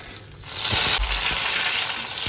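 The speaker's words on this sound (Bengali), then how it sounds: "কড়াইটা গরম হয়েছে একটুখানি দিয়ে দিলাম তেল যেটা করব এর মধ্যে দিয়ে দেব এই যে বড়িটা" Lentil bori drop into hot oil in a wok and set off a steady, close sizzle, with a brief clatter as they go in.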